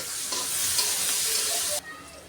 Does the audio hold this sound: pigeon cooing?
no